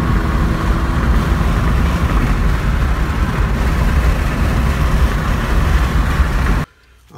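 An Acura/Honda car cruising in fifth gear, recorded inside with a steady low engine and road drone holding an even level throughout before cutting off abruptly at the end.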